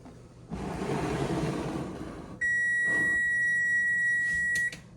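Kitchen timer beeping during stovetop cooking: a loud, steady, high electronic tone holds for about two seconds, following a stretch of broadband hiss like sizzling or running water.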